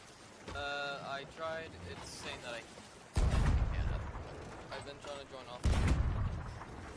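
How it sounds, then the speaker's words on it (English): Ship cannon shots in a pirate video game boom twice as loud, heavy blasts a few seconds apart, while people talk over the game sounds. "Okay, they're gonna get some shots off."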